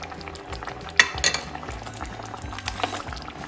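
Raw mango cooks in a pot with a soft, steady bubbling and simmering, broken by a few light clinks and stirring sounds, close and fairly quiet.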